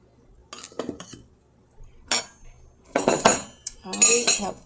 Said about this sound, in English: I'm going to add butter, salt and pepper, and mush it.